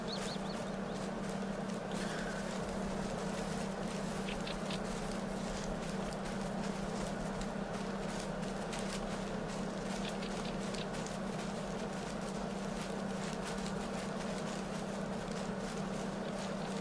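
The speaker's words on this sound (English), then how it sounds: "Sounds like a lot of deer." Deer walk through the woods in theHunter: Call of the Wild, soft scattered hoof steps and rustles repeating unevenly at a moderate distance over a low, steady outdoor ambience with occasional faint bird sounds.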